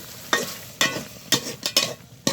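A spatula stirs bottle gourd pieces in a frying pan, giving five or six quick scraping strokes with soft sizzling between them, close and clear.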